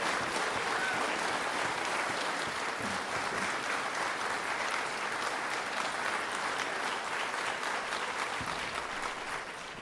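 A school concert audience gives an orchestra leader loud, continuous applause, a dense wash of clapping that holds steady for the full stretch and eases slightly at the end.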